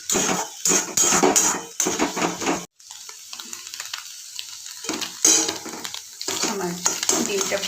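Egg being scrambled in a little oil in a wok, with stirring and spatula scrapes against the pan over a steady sizzle. The sound comes in bursts with a brief quiet gap partway through.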